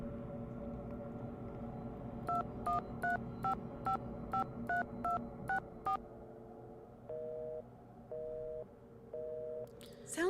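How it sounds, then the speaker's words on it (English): A telephone call being dialed: a quick run of touch-tone keypad beeps, followed by a slow repeating busy signal, faint and heard through the line. "Sounds like she has her phone off the hook."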